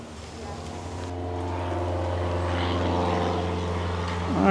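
Propeller airplanes droning overhead in Sarasota, Florida, a steady engine hum with a whining harmonic that grows slightly louder as an aircraft passes nearby, rising again at the end.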